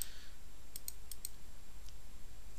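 A computer mouse clicks several times in a quick series, sharp faint ticks close by in a quiet room, then a last single click.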